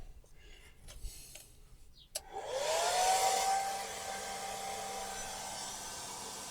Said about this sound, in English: I never actually use the hairdryer.